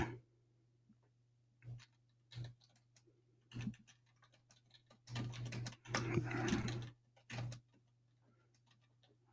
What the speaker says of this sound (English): I got to peck at the keyboard